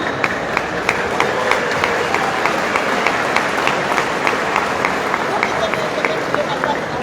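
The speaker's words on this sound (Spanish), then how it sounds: "No sé si el aplauso es de agradecimiento de que por fin acabó" A church congregation at a Spanish-language service claps together, with sharp, evenly spaced claps rising out of a steady wash of room noise and murmur.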